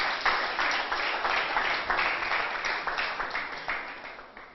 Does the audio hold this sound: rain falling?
no